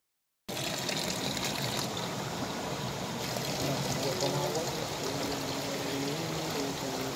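Water trickles steadily at a cold spring drinking spot, a continuous close splashing flow that starts abruptly and carries on without pause, with faint voices in the background.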